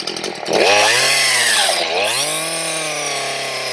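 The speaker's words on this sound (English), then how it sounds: "Jeff, start the saw up here. Okay. And we'll go ahead and make a cut" A chainsaw revs up and cuts into wood, its loud engine whine dipping and rising as the bar bites and the load changes, close and continuous.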